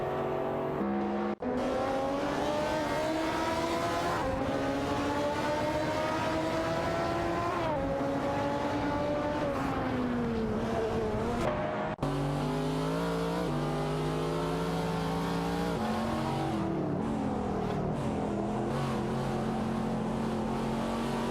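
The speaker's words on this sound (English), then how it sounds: "Apple's Ferrari F60 America is really making moves against Cedric's Lamborghini Asturion" AI-driven cars, a Ferrari F60 America and a Lamborghini Asterion, race in a video game, their engines revving with rising and falling pitch and sharp gear-shift breaks, loud and close, with no talking.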